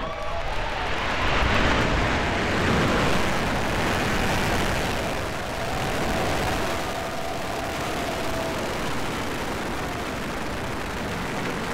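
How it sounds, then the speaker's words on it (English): A previously flown SpaceX Dragon lifts off toward the Space Station, and the rocket sends up a broad, sustained roar with a loud, rumbling crackle that holds throughout. "Ignition, liftoff."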